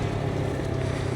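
A Moto Morini X-Cape 700 motorcycle engine hums in a steady, close, continuous drone through a smooth gear shift while riding, with rushing wind mixed in.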